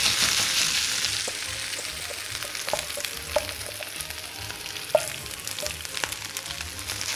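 Grated potato galette frying in olive oil in a pan over medium-high heat, with a continuous sizzle, scattered crackles and occasional sharp pops.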